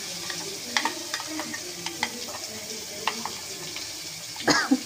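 Ground green chilli paste dropped into hot oil with asafoetida, sizzling quietly while a spoon stirs with soft scraping clicks, a brief louder clatter near the end.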